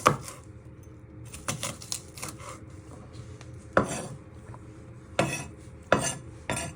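A kitchen knife chops onion into small pieces on a board, with sharp, irregular knocks spaced apart over a quiet, steady background.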